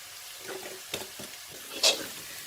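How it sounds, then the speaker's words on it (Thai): Garlic is stir-fried until golden, with a soft, crackling sizzle and several quick scraping strokes of a spatula in the pan close by, and no one speaking. "เราต้องผัดจนกว่ากระเทียมของเรานะ เป็นสีเหลืองและหอมค่ะ"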